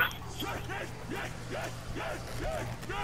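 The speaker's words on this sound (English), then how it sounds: "Damn dog, attack me." A dog in the Black Ops zombies video game barks and yips in a quick, regular series of sharp calls over a low steady game hum.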